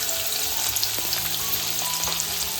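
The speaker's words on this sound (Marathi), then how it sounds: "मस्त तापलेलं आहे. याच्यामध्ये कांदा घालतोय." Chopped onions frying in hot oil in a cooking pot as a Maharashtrian vegetable dish with drumstick flowers gets its tempering, a steady close sizzle with a few soft clinks, no talk.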